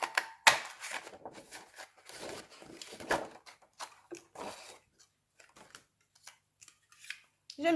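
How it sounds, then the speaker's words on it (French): A paper punch snapping through white paper to cut out labels, a series of sharp crisp clicks and crunches in irregular bursts, close up with quiet gaps between. "J'aime bien cette perforatrice, ça fait des étiquettes très rapides."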